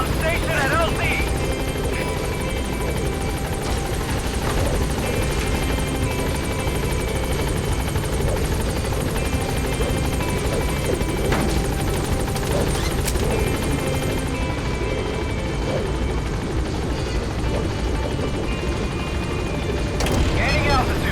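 Pequod helicopter from Metal Gear Solid V descending to a landing zone: a loud, continuous rotor drone with engine whine holding steady for about twenty seconds, with occasional in-game impacts and crashes beneath it.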